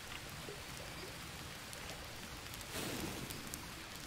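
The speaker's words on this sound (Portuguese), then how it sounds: "parece como se estivesse chovendo aqui dentro" Rain in the jungle survival video game Green Hell, a steady even patter of falling rain spreading broadly and moderately loud, with a brief heavier swell of drops partway through and no speech.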